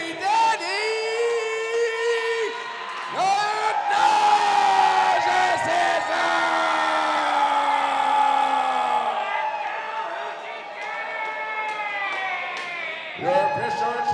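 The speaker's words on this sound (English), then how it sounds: "Stand up and rise and clap for your Hoochie Daddy." A loud crowd at a wrestling event whoops and hollers in long, rising and falling shouts, wave after wave, with a brief lull before the yelling swells again.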